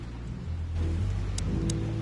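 Steady rain falls in the Chicken Police video game, a constant dense hiss with low rumbling underneath and a couple of brief bright ticks, continuous and moderately loud.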